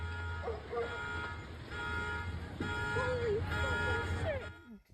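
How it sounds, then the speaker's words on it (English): Multiple alarms on cars parked along a street blare and warble at once after a house explosion, overlapping steady tones and sweeping sirens, with a dog barking in the mix. "you can hear all of the car alarms there parked on the street going off simultaneously"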